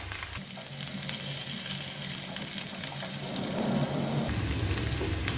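Baby potatoes deep frying in hot oil for honey chilli potato, making a steady bubbling sizzle like rain on a surface that swells slightly toward the end.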